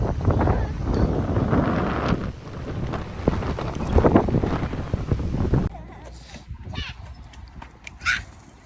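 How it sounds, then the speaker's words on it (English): Wind buffets a microphone outdoors while debris and sticks are blown about, a rough continuous roar with gusty swells that drops off partway, with brief voices mixed in. "The wind is blowing stuff everywhere."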